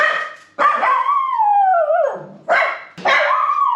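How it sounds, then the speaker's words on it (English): A dog close by lets out a long, drawn-out howling bark that slides down in pitch, followed by two sharp barks, with no talking. "just won't stop barking"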